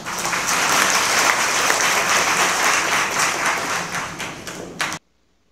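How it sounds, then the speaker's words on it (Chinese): Warm applause from a large audience at a university graduation ceremony, dense and sustained clapping for about five seconds before stopping abruptly into silence. "请再次以热烈掌声"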